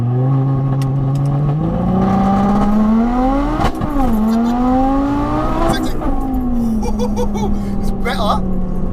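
Manual all-wheel-drive car launching hard from a standstill in a 0-60 acceleration run, engine revving up through rising gear pulls with a shift, loud and close, with people talking over it.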